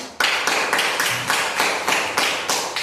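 A class claps hands together in a steady, rhythmic unison beat of about ten even claps, close and fairly loud in a primary school classroom after a student group's presentation.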